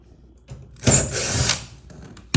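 A Phillips-bit power screwdriver with a magnetic attachment whirs in one short burst, driving a screw into a GE washer during a repair for shaking, with a faint click at the end.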